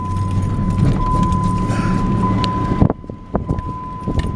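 A car driving back onto a residential property, its engine and road rumble steady with a jangle of keys and a high hum, then the motor cuts off abruptly, leaving light knocks and rustles nearby.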